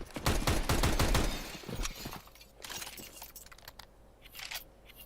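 Bursts of AK rifle fire in a Counter-Strike-style European Pro League esports match, with loud rapid volleys of shots in the first two seconds, then quieter scattered shots and game ambience.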